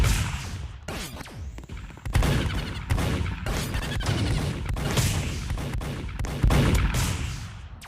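Rapid bursts of gunfire and heavy impact blasts from a Skibidi Toilet shooting video game, loud and dense, with repeated cracks and booms filling the whole stretch.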